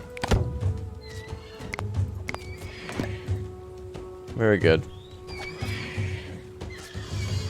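Horses in the prehistoric survival game Dawn of Man give a loud, rising whinny near the middle, amid game hoof clops, thunks and ambient noise, with someone talking over it.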